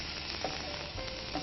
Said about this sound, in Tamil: இப்போ நம்ம வந்து இது ஆனியனை கொஞ்சம் நல்லா பொரிக்கணும்